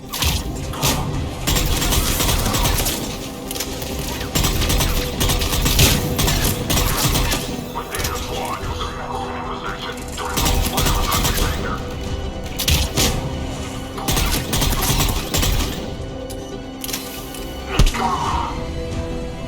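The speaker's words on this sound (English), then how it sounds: "They're under fire!" Gunfire in Mass Effect 3 forms a dense, continuous barrage of sharp cracks and crashing impacts, loud and close, layered with game effects and occasional brief voices.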